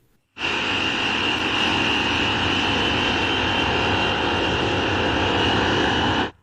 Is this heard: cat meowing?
no